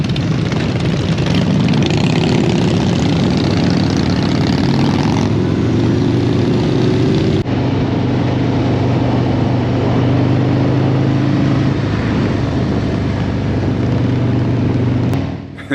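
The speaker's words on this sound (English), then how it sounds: "The loudest bike I've ever seen." A Harley-Davidson motorcycle at an outdoor bike show roars loudly and continuously, with a heavy engine drone whose pitch shifts and swells over about fifteen seconds before cutting off at the end, with no talking.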